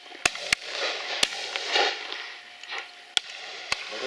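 Shotguns fire during a partridge shoot: several sharp, separate bangs at irregular intervals, some closer and louder, others fainter, over quiet outdoor background.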